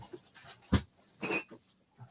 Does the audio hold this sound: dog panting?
yes